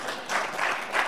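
An audience claps in a short, close burst of applause that swells and fades across about a second.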